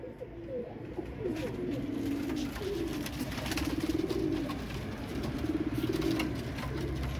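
Salary Royal Teddy pigeons coo in a breeding setup, soft rolling repeated calls close by over a steady background hum, with no talking.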